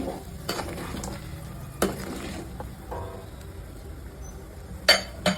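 Crushed garlic stirred into a raw-mango fish curry in a pan: a quiet, steady sizzle with soft scraping and a few sharp clinks of a metal spoon on the pan.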